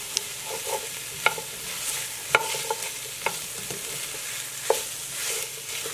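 Potatoes, basil, carrots, onion, celery and garlic stirred in a soup pot, with a steady low sizzle and irregular spoon knocks and scrapes against the pot, close and moderately loud.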